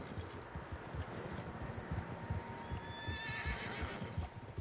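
Horses in Red Dead Redemption 2 whinny and neigh over a steady, busy background of hoofbeats, with the neighs rising clearly toward the end.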